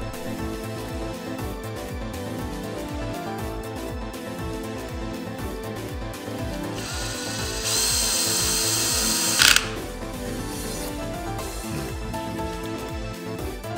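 A power tool repeatedly tightens nuts on a production line using a Koken slide magnet socket, giving a steady loud mechanical whir that swells into a brief high-pitched burst near the end, with no talking.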